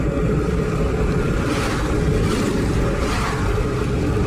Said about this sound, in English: But someone watching this car go by